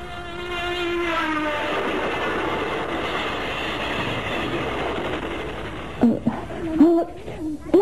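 A train rumbles past with a sustained tonal whine, then the noise drops away and a few short voiced sounds follow.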